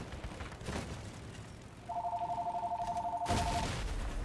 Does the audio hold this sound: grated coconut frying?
no